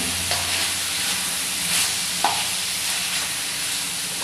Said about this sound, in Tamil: சிக்கனை நல்லா பரட்டி விட்டுருங்க